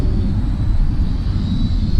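A Goolrc S161 drone flies outdoors in a light wind, giving a steady close whir with a thin high whine over wind rumble.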